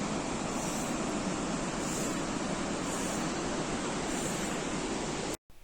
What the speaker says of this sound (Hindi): और दोस्तों जो आप पीछे शोर सुन रहे हैं वो सरस्वती नदी का शोर है।